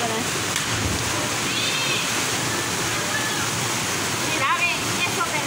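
Salto de Limón waterfall, a loud constant rushing roar of falling water from close by that fills the whole stretch, with faint voices and birdlike chirps barely above the noise.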